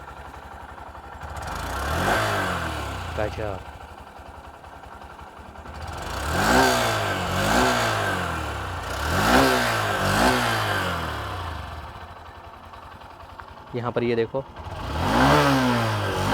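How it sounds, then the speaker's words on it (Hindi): A 2025 Honda SP 125 motorcycle engine runs at a quiet idle and is blipped up in repeated short revs, each rising and falling, close by, with someone talking over it. "इंजन साउंड सुन लेते हैं, एग्जॉस्ट नोट सुन लेते हैं।"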